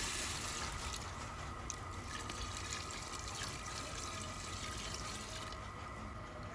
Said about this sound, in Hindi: अब यही पानी इसमें डाल देंगे।